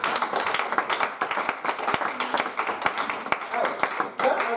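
A church congregation at an evening service clapping and applauding, many hands beating in rhythmic bursts, loud and close, with voices mixed in underneath.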